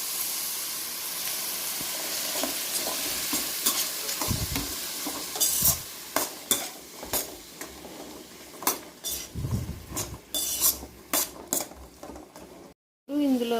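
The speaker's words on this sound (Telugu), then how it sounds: "అల్లం వెల్లుల్లి పేస్ట్ పచ్చివాసన పోయేంత వరకు ఫ్రై చేసుకోవాలి." Ginger garlic paste fries in a pan for beans curry, with a constant sizzle under repeated sharp clinks and scrapes of a metal spoon stirring, then a brief cut to silence near the end.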